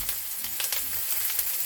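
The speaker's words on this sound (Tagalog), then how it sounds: "We'll wait until the onion is brown." Onions fry in a hot pan at home, a steady close sizzle with crackling pops and occasional stirring scrapes, continuous and fairly loud with no voices.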